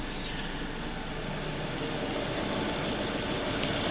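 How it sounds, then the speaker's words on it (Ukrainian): A VW Touran engine idles while warming up in a workshop, a steady continuous hum with mechanical vibration and fan-like hiss that stays even and moderately loud throughout, with no talking. "На витяжці зараз працює автомобіль в стані прогріву."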